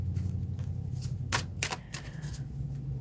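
Tarot cards shuffled by hand, a few quick papery riffles and flicks over a low room hum, close and fairly quiet, with no talk.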